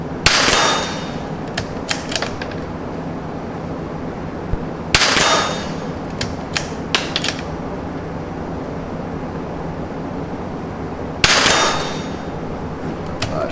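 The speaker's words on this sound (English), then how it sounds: "Shots." Three sharp .22 LR rifle shots, a CZ and a Tikka, fired outdoors several seconds apart, each followed by a few quick metallic bolt clicks.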